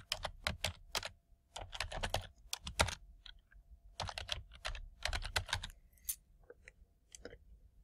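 Quick bursts of keystrokes on a computer keyboard as an email address is entered, crisp clicking taps in uneven clusters with short pauses between, close and quiet with no talking.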